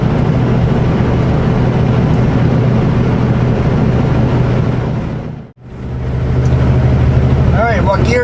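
A 500 hp Kenworth W900L truck engine drones low and steady while descending a hill on a brake check, loud and close, with a brief dropout partway and someone talking over it.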